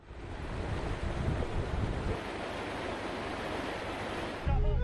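Swollen, fast-flowing floodwater in a rising river during a rescue, a loud continuous roar of rushing water with a steady broadband wash and no voices.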